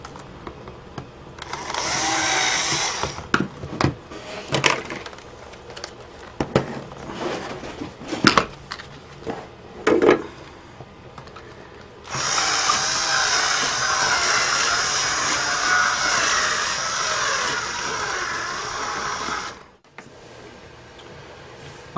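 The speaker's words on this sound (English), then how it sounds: "I'm going to drill into the hole here." A power drill is run on a Vaio laptop during a power jack repair to widen a hole, first in short intermittent bursts with clicks and handling noise, then in one long continuous whirring stretch that stops abruptly.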